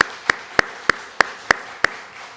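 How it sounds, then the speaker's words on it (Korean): Clapping in a church congregation during a Wednesday evening service: seven sharp claps land in a steady, evenly spaced rhythm over quiet room tone, with no voices. "우레와 같은 박수로 환영하겠습니다."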